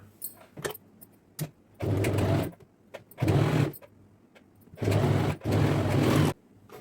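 A sewing machine stitches neatly folded blouse fabric in several short bursts, each a second or less long, with quiet gaps between the runs.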